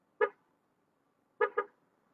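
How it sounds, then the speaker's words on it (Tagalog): A Yamaha Fazzio scooter horn beeps once, then after a pause gives two quick beeps in a row, loud and close against near silence. "Pero busina muna."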